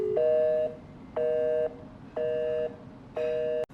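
An unanswered outgoing phone call rings back with four identical two-tone pulses, each about half a second long and spaced about a second apart, clear and close with no voices.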